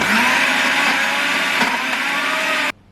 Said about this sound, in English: We are going to put them in the blender now.